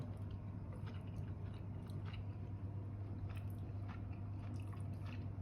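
Someone bites and chews a mouthful of stir-fried kale with crispy pork, soft crunches and wet chewing sounds repeating close up over a steady low background hum.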